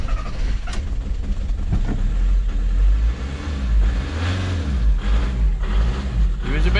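A VW/Audi turbo diesel engine with freshly cleaned sticky VNT turbo vanes cranks and starts, then runs at a steady, loud, rumbling idle with some revving, heard up close.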